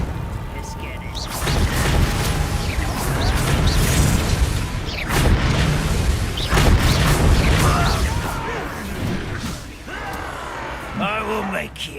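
A Confringo blasting spell explodes in Hogwarts Legacy on PS5, with repeated heavy booming blasts and crashing debris filling the clip, then a quieter tail with a voice briefly heard.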